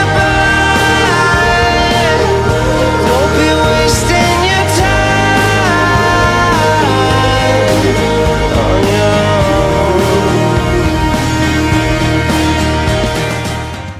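A single playing, a full mix of vocals, guitars and rhythm section, steady and loud from start to finish with no talking over it.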